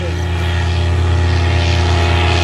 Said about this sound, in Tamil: ஃப்ளைட் சவுண்ட் அப்படியே இருக்கு.